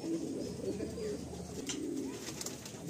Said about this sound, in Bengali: টেডি পায়রা।